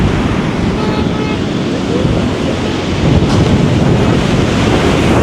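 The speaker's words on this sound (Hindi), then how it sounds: "ये है समंदर" Sea waves at Hawks Bay beach in Karachi, a rough, continuous roar of surf with heavy wind buffeting the microphone, loud and close throughout.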